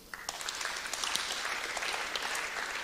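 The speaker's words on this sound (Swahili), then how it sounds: "Simpigie Mungu makofi" An audience at a Christian harvest conference breaks into steady clapping that swells quickly and holds at a moderate level, heard from within the hall.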